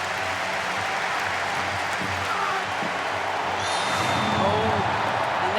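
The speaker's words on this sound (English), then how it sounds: "you can probably hear it from the reaction of the crowd" A large stadium crowd at a men's javelin final roars and applauds in a dense, continuous wash that swells slightly louder near the end.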